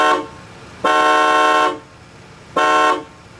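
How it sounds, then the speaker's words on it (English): A 1989 Cadillac Brougham car horn honks three times, a short toot, a long blast, then a medium one, its brassy chord ringing out close by. "it would be a crime to make this review without showing you the horn"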